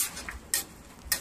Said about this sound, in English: You're going to give them a little stir.